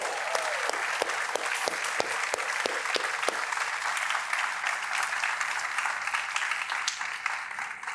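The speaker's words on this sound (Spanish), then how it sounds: "Para ellos pido un fuerte aplauso." Church congregation applauding loudly and steadily in a large hall, dense sustained clapping with a few sharper individual claps early on, continuing for the full duration.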